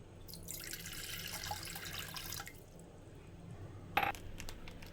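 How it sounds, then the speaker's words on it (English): Water poured from a cup into a cooking pot, a steady splashing stream for about two seconds, then a sharp clink of the pot or utensil. "To a cooking pot, add 3/4 cup of water."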